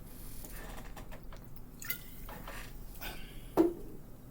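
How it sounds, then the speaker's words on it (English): A person takes a sip of water during a course lecture: soft, close-up wet swallowing and mouth sounds in quiet, ending with a brief sharp clink or tap as a cup or bottle is set down. "Let me get a sip of water here."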